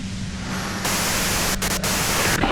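Radio static from the video game Disco Elysium: a steady, loud wash of white-noise hiss that jumps slightly louder partway through, with a few brief dropouts, heard alone.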